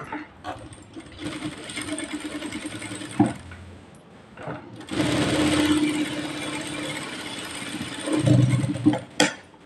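A sewing machine runs in bursts while stitching around lining cloth for a blouse, its motor whirring close up with short pauses between runs of stitches and no talk.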